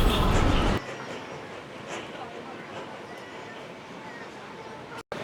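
A steady rumble of a Taipei MRT train in motion near Songshan Station, with continuous broadband noise and a brief dropout near the end, under faint background voices.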